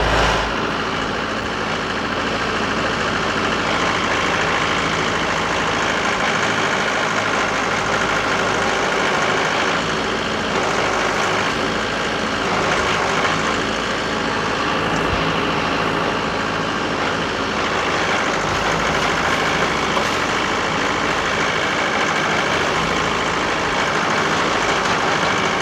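A Mahindra 4540 tractor's diesel engine drones steadily and loudly at close range while pulling an oak tree out by its roots, holding a constant heavy rumble throughout.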